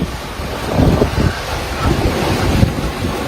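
Wind and rough sea at sea aboard a sailboat in the Indian Ocean near Cocos Keeling, with waves around three to four meters; a steady roar of wind over the microphone with surging wave swells rising and falling throughout.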